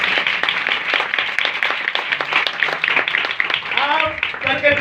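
A roomful of people claps steadily in a church meeting, sharp dense hand claps continuing throughout while someone talks over the applause.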